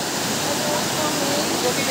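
Steady broadband rush of a river and waterfall flowing near a living root bridge in Meghalaya, a continuous even wash of water noise with no clear voices over it.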